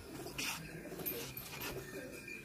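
A 10 number pigeon gives low, soft coos in a short, rolling run, faint and nearby, with a few light chirps in the background and no clear talking.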